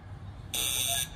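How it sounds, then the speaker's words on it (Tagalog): A short, loud electronic game show buzzer blares for about half a second against a quiet room background, at a live comedy night. "Try natin yung buzzer mo, kuya."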